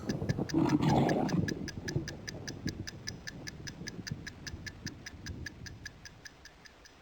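A clock ticks steadily at an even rhythm, faint and crisp, with a brief rumbling swell at the start that fades into quiet background.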